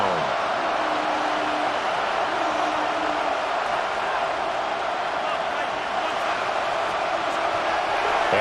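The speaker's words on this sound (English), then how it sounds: "This crowd turning up the decibel level." A stadium crowd roars in the Madden NFL 26 football game, a constant loud wall of massed voices with no breaks, and a commentator faintly audible within it.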